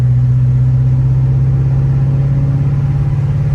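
A Chevrolet S10 truck with an LS swap and a T56 transmission drones steadily in a loud, close low engine hum as it downshifts to third, a sustained even tone with no talking.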